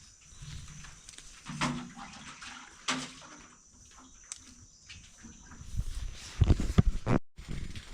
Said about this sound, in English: Fetching water right here.